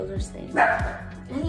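A pet dog at home gives short barks and yips, mingled with someone talking nearby as she washes something with soap.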